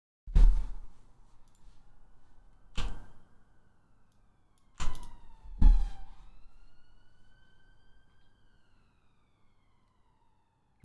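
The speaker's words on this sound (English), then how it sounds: "It's the sound of the police." A police siren sound effect during a live esports broadcast, heard in short wailing bursts cut by several sharp thuds, with long gliding tones trailing off into quiet.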